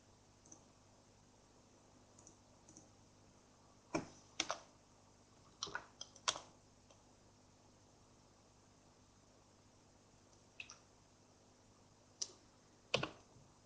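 Typing on a computer keyboard while entering pharmacy software commands, sparse clusters of crisp, close key clicks separated by quiet pauses over a low steady hum.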